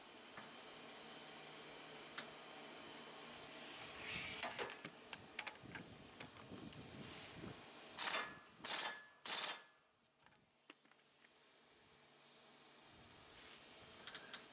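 A pneumatic air gun works on a lawn mower blade bolt, giving three short, loud bursts of hissing rattle close together near the middle, with quieter mechanical handling noise before and after.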